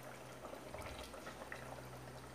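A pot of boiling Kerala fish curry shaken by hand, giving a steady wet bubbling and sloshing hiss with soft liquid churning throughout, fairly quiet and continuous with no voices.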